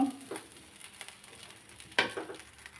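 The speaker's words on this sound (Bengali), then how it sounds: "এখন আমি কন্টিনিউ নাড়াচাড়া করে নিব" Broken rice being stirred in a cooking pot, with intermittent scraping and clinking strokes of a spoon against the metal, fairly close and at a moderate level, over a faint background.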